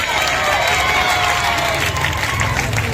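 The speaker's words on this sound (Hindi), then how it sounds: "इसलिए लड़कों के लिए जोरदार तालियां।" At an Urdu high school quiz competition, a crowd bursts into loud applause and cheering for the winning boys, a thick, continuous wash of clapping and excited voices.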